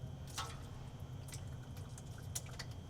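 Amsoil 0W40 engine oil from a 7.3 Godzilla V8 dripping from the drain into a sample bottle, faint irregular drips and small splashes over a quiet low hum.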